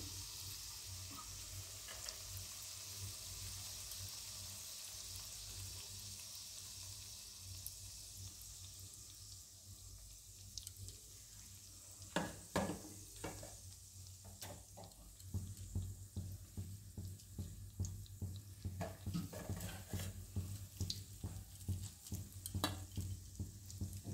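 Cashew pakoras dropped one by one into hot frying oil: a soft steady sizzle that turns busier midway, with repeated bursts of crackling bubbles as each piece lands, faint and close, no speech.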